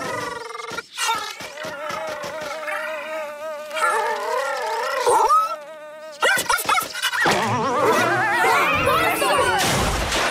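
Cartoon robot dog playing with a robot dinosaur, giving synthetic yelps and bark-like cries in bursts, followed by a dense clattering, crashing passage of effects and music.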